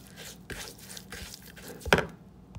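Whisking yeast, sugar and warm water in a bowl as the first step of semolina bread rolls, quiet soft taps and wet stirring scrapes, with one sharper clink near the end.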